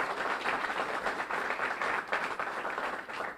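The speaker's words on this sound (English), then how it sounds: "I want to really give him a big round of applause for saying yes" Sustained applause from a sizable crowd, dense steady clapping at an even loudness for a few seconds with no voices over it.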